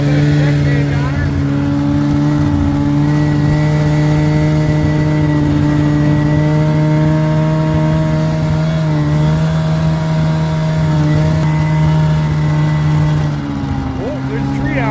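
A winter vehicle's engine idling while it warms up, a loud steady low hum that holds nearly constant throughout, close by, with a slight change in pitch near the end.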